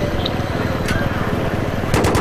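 Dense, rapid gunfire rattles steadily in a Battlefield 3 co-op mission, loud and continuous, with sharp bursts near the end.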